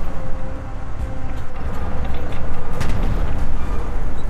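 Explosion in Fallout: New Vegas with the Frontier mod, a loud sustained rumbling blast with crackling debris that stays dense and noisy throughout, no speech over it.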